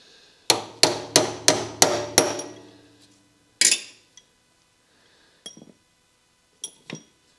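Hammer blows driving a roll pin out on a motor grader driveline: six sharp, ringing metal strikes in quick steady rhythm, then a pause and a few scattered lighter taps and clinks.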